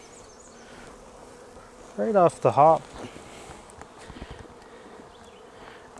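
Honey bees buzz around an opened backyard hive in a low, steady hum, while someone speaks briefly in the middle.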